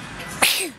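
A child sneezes once during a face-painting session, a short sharp burst standing out against a quiet room with soft background sound.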